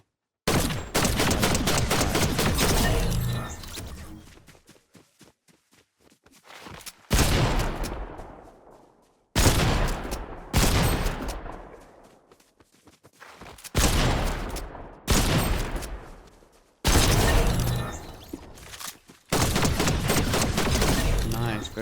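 Shotgun blasts in a video game: heavy booming shots in spaced bursts, each trailing off over a second or two, loud and close, with talk between them.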